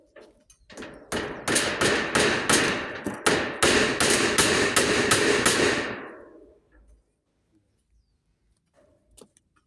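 A steady run of about a dozen sharp hammer blows on nails during roof construction, loud and close, then the sound stops and a quiet room follows.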